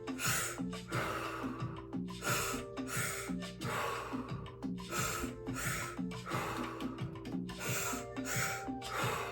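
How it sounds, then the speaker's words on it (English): Deep, forceful mouth breathing in a steady repeating rhythm of sharp inhales and sighing exhales during a triactive breathwork exercise, with ambient music underneath. "You're breathing all through the mouth, feeling that air coming into the body"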